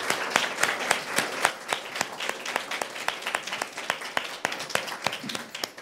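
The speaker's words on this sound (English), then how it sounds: "could I just get a round of applause for her?" Applause for Huyen Pham at the close of an institute talk event on narratives of fear and resistance in Europe, a steady patter of many hands clapping from a small audience, moderately close and continuing throughout.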